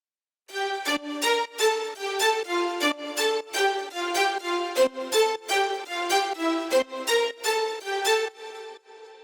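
Processed violin and string presets in a deep house production, sidechained and washed in vintage reverb, play a rhythmic sequence of short bright plucked-sounding chords that pump steadily for about nine seconds with no voices.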